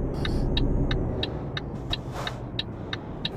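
Truck engine rumbling steadily in Euro Truck Simulator 2 as the rig drives along, a low continuous drone with faint repeated clicks over it and no talk.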